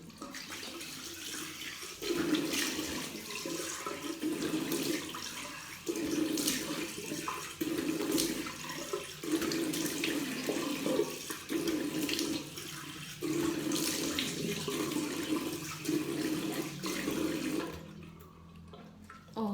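Tap water runs while a face is rinsed clean of caviar hyaluron soap, a close, steady splashing stream broken by rhythmic surges as handfuls of water are scooped, ending in a sudden stop.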